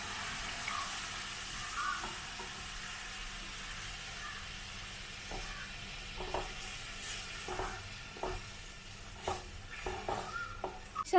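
Jaggery dissolving in about a quarter cup of water in a hot kadai gives a steady low simmer and sizzle, with scattered scraping stir strokes that grow more frequent toward the end. Nobody speaks.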